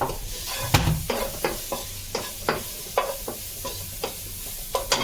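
Crab masala with curry leaves and turmeric stirred in a pan, spoon scrapes landing in a steady rhythm over a continuous sizzle, close and moderately loud.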